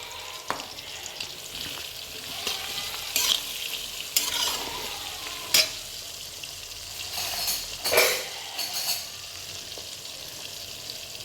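Onion and garlic fry with hing in a kadai: a steady hiss of hot oil broken by periodic scraping stir strokes and a few sharper metal taps, close by, with no speech.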